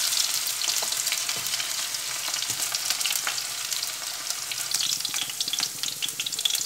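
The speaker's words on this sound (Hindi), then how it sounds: "इसको थोड़ी देर भुनेंगे" Potatoes fry with cumin in hot oil, a dense, steady crackling sizzle heard close up and fairly loud, with small pops and spits scattered throughout and no voices.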